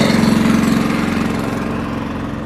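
A tanker's engine drives a pump spraying pesticide by a roadside in Idukki, Kerala, producing a loud, steady, close idling drone with a constant rhythmic throb.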